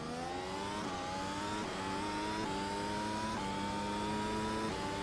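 A race car engine in the iRacing sim revs steadily and loudly, the pitch climbing through gears with brief dips at each shift, alone without talk.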